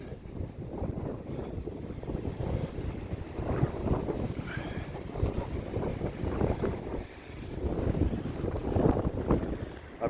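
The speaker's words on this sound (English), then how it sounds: "there's the wind blowing." Strong wind roars steadily in gusts across an open outdoor area during a snow storm, a loud continuous rush with heavy microphone buffeting and no speech.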